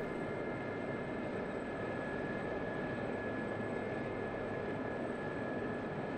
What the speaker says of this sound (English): So we want to bring the helicopter to a hover here.